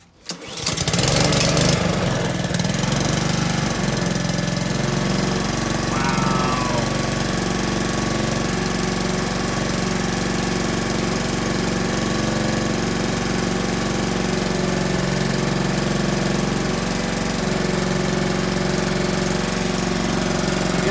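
Honda GCV160 small engine after a crankshaft replacement, starting with a pull and then running at full throttle in a loud, steady, close drone that holds unchanged for the rest of the clip.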